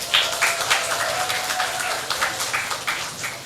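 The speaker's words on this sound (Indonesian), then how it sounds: "Jadi kita akan datangkan Mas Biru Laut, tepuk tangan dulu." Audience applause at a dramatic reading and talk show, a steady wash of clapping from a crowd with irregular sharper claps standing out, fairly loud and continuous throughout.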